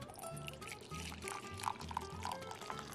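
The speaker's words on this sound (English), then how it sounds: "And then we're gonna pour some hot water in." Hot water poured onto a drink concentrate in a cup, a continuous close gurgling pour with small bubbling splashes, heard on its own for a few seconds.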